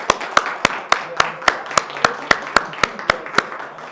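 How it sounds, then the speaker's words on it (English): Regular, evenly spaced claps, about four per second, sound close and sharp, like a few people or one person clapping steadily for students at a school tribute speech event, with faint murmur between claps. "One more round of applause for our students."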